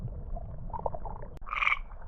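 A male glass frog gives a single short, bright call at twilight, fairly close and clear, rising above a soft bed of quiet ambient forest noise.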